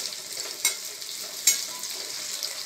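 Onions sizzling steadily in a pan for veg chowmein, a continuous bright hiss with two sharp stir clicks standing out, no talking.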